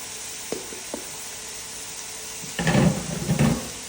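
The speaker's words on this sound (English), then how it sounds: "So, I'm going to start by sautéing the onions." Onions sautéing on a small hot plate for Maltese timpana: a quiet hiss with a couple of faint knocks early on, then a louder, crackling sizzle that surges briefly near the end.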